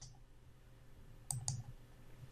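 Typing a command on a computer keyboard at a Windows command prompt: two quick, faint key clicks in close succession over a low, quiet hum.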